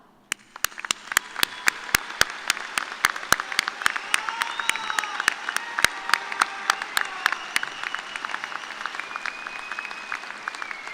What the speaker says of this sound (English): let's all applaud